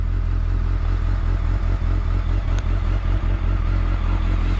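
A 2008 BMW K1200S sport bike ridden on the road, its engine droning loud and constant close to the mic with wind rush and road roughness layered over it; no talking.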